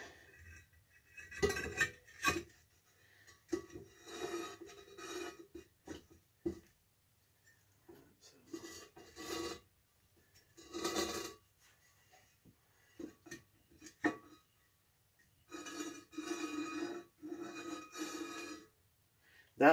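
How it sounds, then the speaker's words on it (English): On a 1992 Dodge D150 with an 8 3/4 rear axle, the loosely fitted axle and brake drum give repeated bursts of light metallic rubbing and clinking, close up, with quiet gaps between them. "That light little rubbing you hear is because the axle is really not bolted in"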